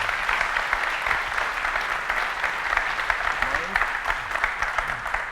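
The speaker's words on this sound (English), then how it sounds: "Give him a round of applause." Audience applause as a guest comes on stage at a 2019 keynote, a steady, dense clapping from a large crowd that holds at an even loudness throughout, with faint voices mixed in.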